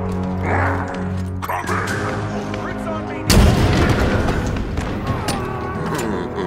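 Halo Infinite combat: gunfire and explosions in a busy game soundscape under a steady musical drone, with a sudden heavy boom midway followed by dense crackling fire.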